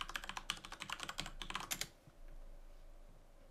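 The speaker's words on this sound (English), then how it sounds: "We'll press Ctrl Alt Delete, type in my password." Rapid keystrokes on a computer keyboard as a password is typed, a quick irregular burst of clicks for about two seconds, then near silence with faint room hum.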